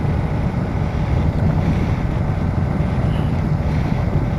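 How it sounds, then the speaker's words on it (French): Strong gusty wind roars steadily against a new motorcycle helmet while riding, a dense loud buffeting rush with no voices. "aujourd'hui il y a un vent à décorner les bœufs"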